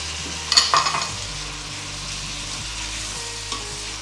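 Chopped cherry tomatoes sizzle steadily in a hot pan, with a few scraping stirs near the start, a continuous close frying hiss under low kitchen hum.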